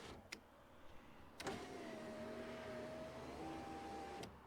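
A Chevy power window regulator motor lowering a car door window, a faint steady whine running for about three seconds between soft clicks, with no talk.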